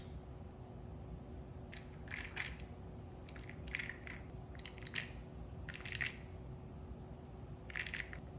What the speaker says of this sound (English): We're just going to place our bits and pieces of crushed clove into the jar.